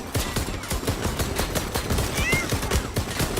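Rapid hand cannon shots in the video game Worms Rumble, a dense barrage of sharp bangs firing continuously, loud and busy over game background noise.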